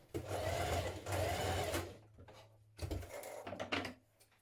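A sewing machine bastes loops onto a summer dress in short bursts of fast, close stitching, pausing briefly and restarting with a rhythmic mechanical whir.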